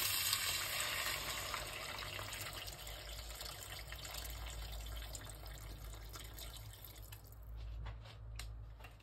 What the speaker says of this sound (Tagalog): So, ngayon, maglalagay na tayo ng tubig ulit.